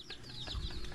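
A chicken clucks close by, a short run of rhythmic throaty clucks over a low background rumble.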